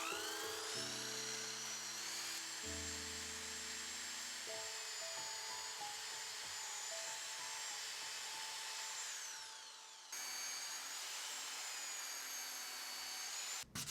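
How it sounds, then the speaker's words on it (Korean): A hand drill fitted with a spindle-sanding drum sands the concave curves of a small wooden jointed puppy doll, whining steadily with pitch shifts as the load changes and a brief pause near the end. "저는 스핀들 샌더가 없어 드릴에 끼워 작업합니다."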